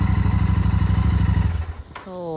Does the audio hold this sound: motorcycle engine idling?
yes